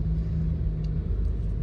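A Mahindra XUV 3XO diesel automatic (AMT) driving through city streets, heard from the cabin as a steady low engine and road rumble with no talking.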